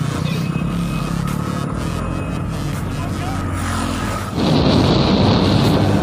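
Motorcycle ridden on a highway toward Agra and Bharatpur in India, a steady loud engine and road rumble with wind roar throughout, swelling louder and brighter near the end.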